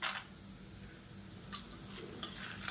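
Coriander seeds and dried red chillies roast in oil for a Thengai Malli Thuvayal, giving a soft, steady sizzle with a few sharp stirring clinks of a spoon against the pan.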